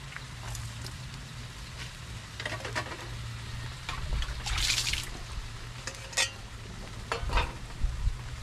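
Patola and miswa soup simmers in a pot, a soft steady bubbling and sizzling hiss with faint stirring clinks and liquid trickles, close and low in level, no voices.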